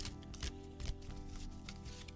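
Tarot cards are shuffled by hand, giving quiet riffling and shuffling bursts close to the microphone over faint room noise.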